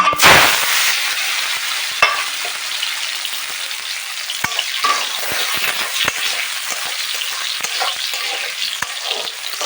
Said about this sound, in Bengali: কড়াইতে ঘি দিয়ে দিয়েছি আর কড়াইটা আমার গরমও হয়ে গেছে আর এই যে এখানে কাজু বাদাম আর কিশমিশ আছে এগুলো আমি এখন ভেজে নেব